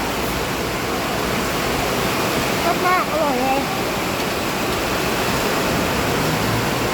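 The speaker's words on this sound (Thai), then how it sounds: "โอ้ฝนตกแรงมาก" Steady, dense hiss of heavy rain pouring close by, constant throughout, with a voice speaking briefly over it near the middle.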